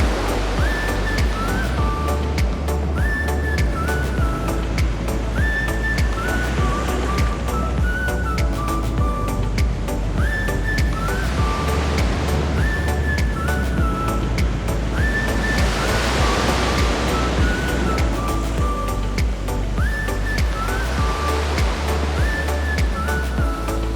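Ocean surf at a beach on Nusa Lembongan, Bali, a steady wash of broadband noise that swells and recedes across the whole stretch, with tonal sounds repeating over it.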